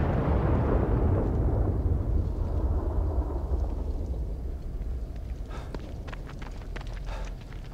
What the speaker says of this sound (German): Ist das Auto denn gerade explodiert?